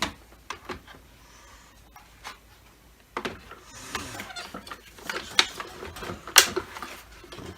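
A Dyson DC25 vacuum cleaner head being fitted back on after repair, heard as scattered plastic clicks, rubs and knocks, sparse and faint at first, then busier with sharper snaps near the end.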